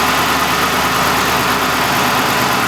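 A Dodge Charger engine idles steadily after a dry start, a continuous low, even rumble held close and loud with no talking.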